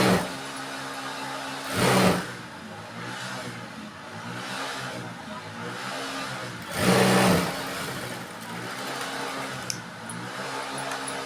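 A sewing machine stitches a blouse lining, whirring in two short, louder bursts separated by stretches of quieter mechanical hum and rattling.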